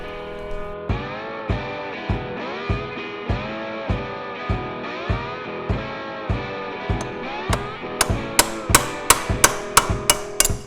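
A dozen sharp hammer blows ring out on metal at a steady beat, knocking a part loose on a Polaris Sportsman ATV engine, then come faster and louder toward the end.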